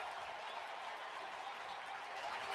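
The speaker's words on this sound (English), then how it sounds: "Everyone on their feet applauding Cristopher Sanchez" A baseball crowd on its feet applauding pitcher Cristopher Sanchez, a steady, distant wash of clapping and cheering that holds evenly throughout.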